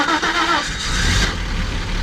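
A BMW E30's engine cranks and catches, a short starter whir followed by the motor settling into a rough idle, close by and fairly loud, with no speech.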